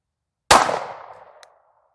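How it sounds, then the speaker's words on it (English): A single sharp pistol shot from a Sig P365XL with a Holosun EPS Carry sight, loud and close on an outdoor range, its report decaying over about a second, followed by a faint metallic tick. "I'll fire one more, I think."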